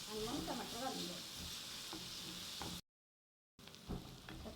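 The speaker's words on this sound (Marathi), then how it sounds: "मस्त असा 5 मिनिटं चांगला भाजू द्यायचा आणि मग टमाटर घालून द्यायचा." Onion frying in a pan for a soya palak dish, a steady moderate sizzle with a few stirring scrapes, cut by a brief full silence before the sizzling resumes.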